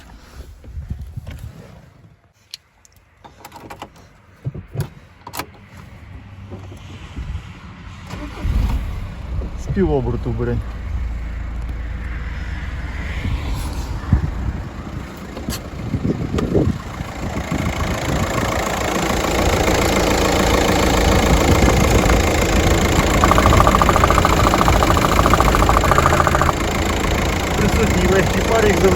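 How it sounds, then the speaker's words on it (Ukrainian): A 2008 Volkswagen Touran's 1.9 TDI diesel engine cranks and catches, then settles into a steady, loud idle that builds and holds; a voice speaks briefly early on. "Одразу вам покажу, як заводиться, як працює двигун."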